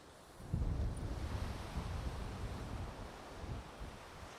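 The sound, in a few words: strong wind at Half Moon Bay beach, Antigua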